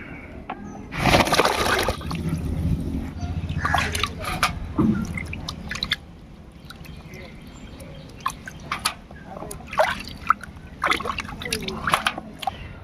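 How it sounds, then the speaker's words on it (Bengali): A chitol fish is washed by hand in water, giving loud splashing and sloshing at first, then intermittent trickles, drips and wet handling sounds close by. "মাছটাকে এবার ধুয়ে নেব।"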